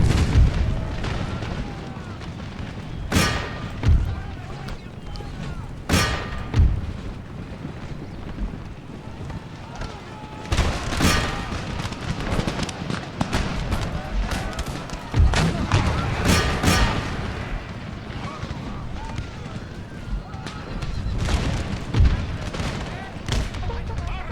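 Artillery booms at irregular intervals across an 18th-century Empire: Total War battle in Mexico, sharp loud blasts over rumbling wind-like battle noise, with a voice speaking now and then.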